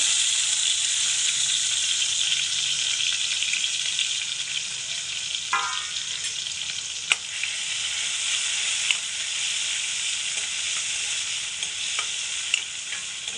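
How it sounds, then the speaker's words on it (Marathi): Curry leaves and tomato hit hot oil for a tempering, giving a loud, continuous close sizzle and hiss with a few sharp crackles and spatters along the way. "सर्व फोडणीला आपण कढीपत्ता टाकून घेऊया"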